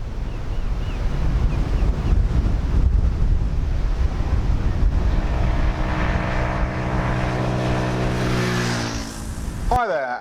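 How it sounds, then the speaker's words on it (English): Strong wind gusts buffet the microphone outdoors on a very windy day, a loud steady rush with low rumble throughout, fading near the end into a brief whistling tone. "And you join us on a very windy day."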